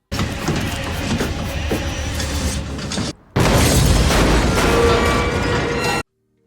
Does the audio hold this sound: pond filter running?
no